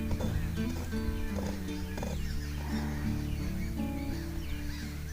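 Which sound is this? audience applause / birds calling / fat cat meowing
birds calling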